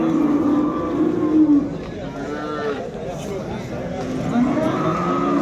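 Cattle low at a busy livestock market in Nuronshoh, a moo rising out of a constant crowd and engine noise, with voices in the background.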